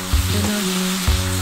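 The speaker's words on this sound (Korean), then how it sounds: "여기에 썰어놓은 청양고추와 대파를 넣고 볶아주다가" Webfoot octopus stir-fried over high heat with sliced chili peppers and green onion, a loud steady sizzle with two brief bursts of louder frying, close and continuous with no talk.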